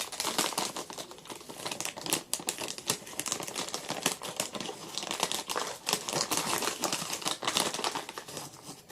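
Foil-wrapped tea packet handled up close, with continuous crisp crinkling and rustling of the foil at a close, quiet level and no talking.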